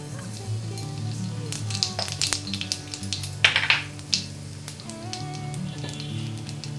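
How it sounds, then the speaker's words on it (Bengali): Nigella seeds (black cumin) spit and sizzle in hot oil for a bitter gourd and potato curry, with soft crackling and a few sharper pops close by, under faint background hum and no speech. "তেল গরম হয়ে এসেছে, আমি দিয়ে দেব অল্প কালো জিরে।"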